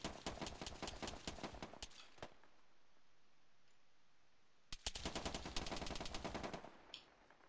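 Automatic gunfire in the Arma 3 military shooter, with rapid bursts of loud shots for about two seconds, a quiet pause, then a second heavy volley of rapid fire before it fades.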